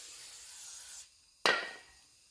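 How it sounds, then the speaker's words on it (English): Brake cleaner sprayed onto the brakes of a Bentley during a brake replacement: a steady hiss fades out, then after a brief pause a second sharp, loud spray burst begins abruptly and tapers off. "Give it a good clean with the brake cleaner."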